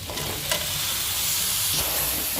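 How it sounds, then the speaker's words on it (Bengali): Boiled raw jackfruit and potato are sautéed in a pan, giving a loud, continuous sizzle and fry with faint stirring scrapes underneath, close up and with no talking. "এবার মা নুন হলুদ দিয়ে সেদ্ধ করে রাখা এঁচোড়টা এর মধ্যে দিয়ে দেবে"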